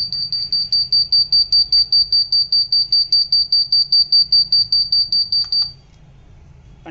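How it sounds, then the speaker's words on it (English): A shrill electronic buzzer on a wireless water tank level controller beeps rapidly in a steady pulsing pattern for several seconds, then stops abruptly, leaving a low hum. "And you can see the buzzer sound is heard."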